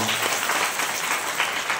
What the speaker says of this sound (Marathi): या ताईसाठी एकदा जोरात टाळ्या वाजवा.